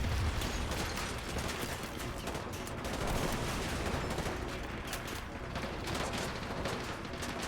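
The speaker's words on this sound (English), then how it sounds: "cops are shooting on me so I can shoot back at them" Police open fire in Call of Duty Modern Warfare 2 Remastered on PS4 Pro, and sustained bursts of gunfire crackle steadily throughout, dense and fairly distant, with no clear pauses.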